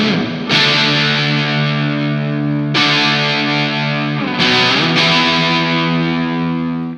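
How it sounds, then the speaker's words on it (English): An electric guitar played through a Greer Southland overdrive pedal into the hall reverb setting of a Boss RV-2 rings out in loud, sustained distorted chords, four strums each swelling into a long reverberant tail. "that's a Greer Southland overdrive pedal going into the hall reverb setting on the RV-2"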